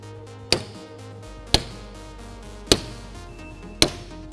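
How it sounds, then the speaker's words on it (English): A center punch is struck to mark a hole on a steel workstation being assembled, giving four sharp metallic taps about a second apart over a quiet background. "I'm then going to center punch the hole."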